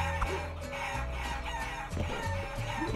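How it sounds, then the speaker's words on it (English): Chickens clucking and a rooster crowing inside a chicken house in a video game, a busy layered flock sound with game music underneath, steady and moderately loud. "There's all the chickens in here."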